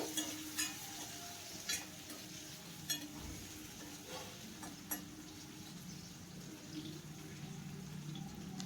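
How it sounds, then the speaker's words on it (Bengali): Potatoes coated in turmeric and salt fry in hot oil, a steady low sizzle with a few sharp scrapes and stirs, fairly quiet and close, no voices. "এখন এই আলুটাকে খুব ভালো করে ভেজে নিতে হবে।"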